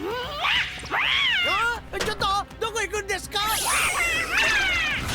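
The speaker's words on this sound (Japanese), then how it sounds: "なんでこんなに猫がいるんだ。" Several cats meow and caterwaul loudly in an animated scene, long wavering cries overlapping one another, while a voice speaks briefly among them.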